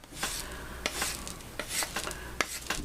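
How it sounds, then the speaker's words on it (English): A rasp files the edge of a clay pottery piece to flatten it, producing quiet, irregular gritty scraping strokes close by with short gaps between them. "rasp the edge here until we get a flat spot on each of the"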